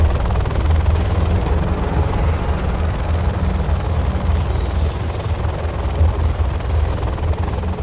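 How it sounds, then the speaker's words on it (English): Helix helicopter in the real-time strategy game Command & Conquer Generals Zero Hour, a loud, continuous rotor thrum with deep, pulsing low end and no voices over it. "Our new Helix helicopter should assure your success"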